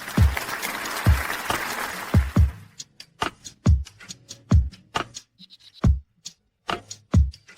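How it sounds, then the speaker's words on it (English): An audience at a company award ceremony gives a round of applause: a full burst of clapping at first that quickly thins to a few isolated, sharp hand claps spaced apart, close by, with no talk. "Everyone, please give a round of applause."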